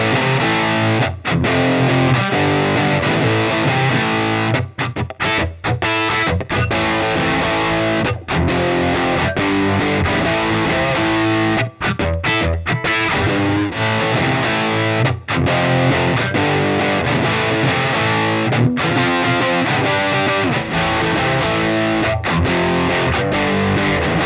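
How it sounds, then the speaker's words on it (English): A heavily distorted electric guitar through an amplifier and a Kemper profiling amp plays loud, dense chords and riffs continuously, with only brief gaps between phrases. "We're going to listen to the Emery sound amplifier first, and then switch to the Kemper profile."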